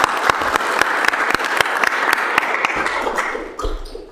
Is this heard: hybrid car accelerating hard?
no